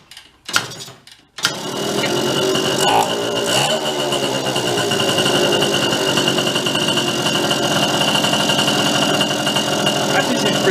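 An old mini bike engine, left in the woods for 30 years, coughs with a couple of sharp pops, then catches and runs steadily at a loud, buzzy idle close by.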